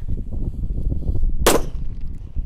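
A purple disco happy flower firecracker goes off with one sharp, loud bang partway through, against a low, rumbling outdoor background.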